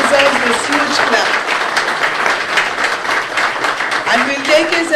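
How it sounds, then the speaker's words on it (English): A crowd at a civic meeting in Panjim applauds loudly and continuously, a dense clatter of hands with some voices mixed faintly underneath throughout. "he deserves this huge clap"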